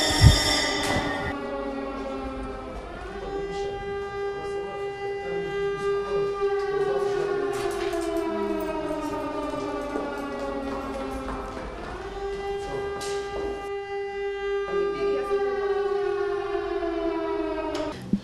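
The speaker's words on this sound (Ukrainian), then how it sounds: "Геннадію Федоровичу отримано сигнал повітряна тривога." A civil defense air raid siren sounds during a school evacuation drill, a loud sustained wailing tone with slow rising and falling pitch that continues steadily throughout, with no talk over it.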